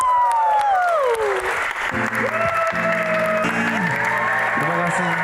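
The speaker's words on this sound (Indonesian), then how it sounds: "Tepuk tangan dong" A television talk-show studio audience applauds continuously in a thick, even wash, with a whoop, sustained musical tones and a voice heard over it.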